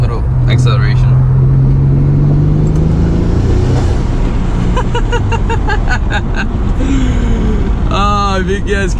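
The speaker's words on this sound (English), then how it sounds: "Let me do like a quick second gear pull for you guys. Nothing crazy, just a little acceleration." A twin-turbo Nissan 300ZX pulls hard through second gear, its engine note rising loudly and steadily from close range, with a voice speaking briefly over the acceleration.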